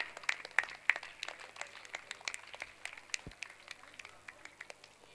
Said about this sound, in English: Let us all encourage and support them with a big round of applause